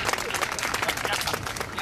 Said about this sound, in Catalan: Un salt de aplaudiment per aquest petit pastor.